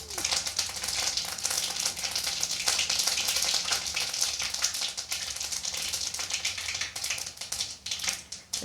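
Mustard seeds fry in hot oil with fenugreek and cumin in a pan on low heat for a South Indian vathal kuzhambu, giving a dense, continuous sizzle full of close crackling pops, with no talking.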